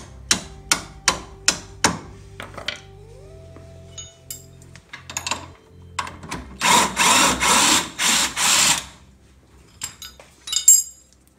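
Metal tool tapping a part through on a Honda Civic manual transmission: a run of sharp, evenly spaced clinks, then a brief spell of louder scraping, then more scattered taps, close up with no talking.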